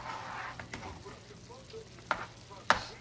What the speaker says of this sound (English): you just let it simmer so you can finish the rest of your meat